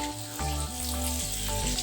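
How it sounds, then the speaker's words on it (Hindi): Paneer cubes fry in a pan over low to medium flame, giving off a continuous close sizzle with a faint background hum and no voices. "पलट पलट के अच्छे से फ्राई करेंगे इसको।"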